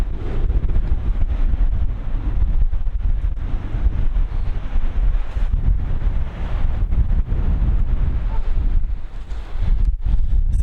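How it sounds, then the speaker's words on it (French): Strong wind gusting across a swaying suspended footbridge, the Passerelle d'Hautpoul, producing loud, continuous buffeting and rumbling microphone wind noise throughout. "Il y a vraiment du vent et on sent la passerelle qui bouge."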